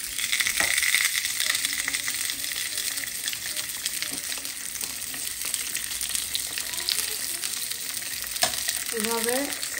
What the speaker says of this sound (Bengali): এভাবে এই সবগুলো পুরি ভেজে নেব।